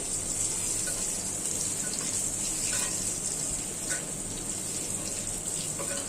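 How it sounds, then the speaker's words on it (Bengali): A boiled egg fries in hot oil on a low gas flame, giving a steady, even hiss that runs unbroken and fairly loud with no pauses. "ডিমটা সিদ্ধ হয়ে গেছে, আমি এখন তেলে ভেজে নিচ্ছি"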